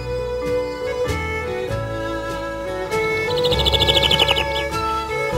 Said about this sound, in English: Even the birds are friendly.